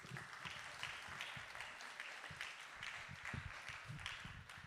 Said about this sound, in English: So a big round of applause to the both of them.